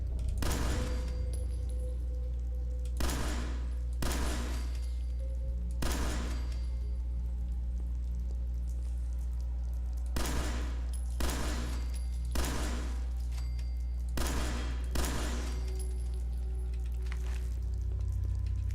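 Gunfire in the video game Fallout 4: about nine separate loud bursts of shots, spaced irregularly over a constant low hum.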